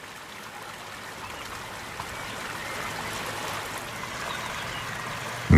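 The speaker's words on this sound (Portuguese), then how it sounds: "distribuindo as águas vindas das levadas" Water runs through levada irrigation channels feeding terraced vineyards, a steady, continuous rushing flow that holds evenly throughout with no voices.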